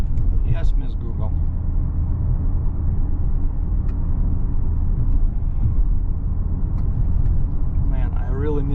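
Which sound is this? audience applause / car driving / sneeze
car driving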